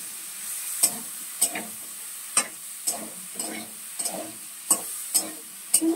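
Vegetable stalks fry in mustard oil while a spatula scrapes and knocks against the pan in about ten sharp, evenly spaced strokes over a soft, steady sizzle.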